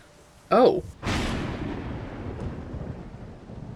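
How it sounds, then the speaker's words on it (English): Thunderstorm thunder in the video game Solarpunk: a short loud crack, then a heavier clap a moment later that rolls into a long, fading rumble, with no talk over it. "Oh, so that's a thunderstorm."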